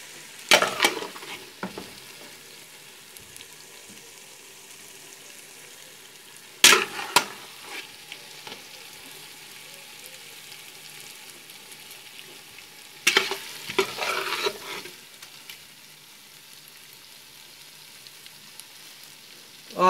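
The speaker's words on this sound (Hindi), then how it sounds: "अब मैं इसके अंदर डालूंगा जो है ना वो चावल डालूंगा।" Chicken and potatoes sizzle steadily in a pot for desi chicken biryani, with three sudden bursts of clattering and louder hissing as rice is stirred in and the pan is worked.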